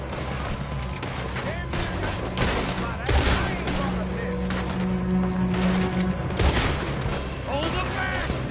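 Rapid gunfire bursts and booming shots crack out in a Red Dead Redemption 2 western shootout, several loud volleys over continuous clatter, with characters shouting over the fight.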